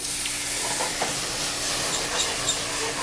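Raw lobster meat and leeks flambéed in a hot pan with coconut rum give a loud, continuous close sizzle and hiss, dense and steady with faint crackles.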